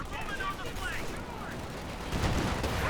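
Sherman tank firing on grouped Grenadiers in Company of Heroes 2, a steady rumbling wash of game gunfire and battle noise with a commentator's voice running over it.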